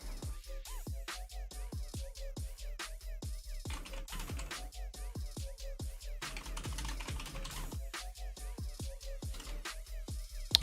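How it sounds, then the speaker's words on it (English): Rapid computer keyboard typing with dense, irregular bursts of key clicks, close and steady throughout, played over during a Warframe looter-shooter gaming session with no voices. "that's how typing works"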